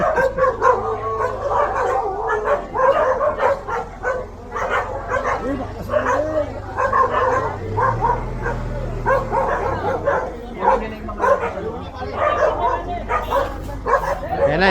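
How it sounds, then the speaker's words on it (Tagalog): Persistent close barking and yipping from a dog, steady and excited, mixed with people's voices talking alongside it. "Aso sumasagot."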